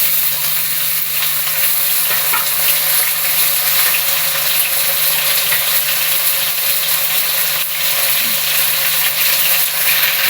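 Okra tossed into hot oil with browned chopped potatoes sizzles loudly and continuously, with faint stirring clinks and a low steady hum underneath.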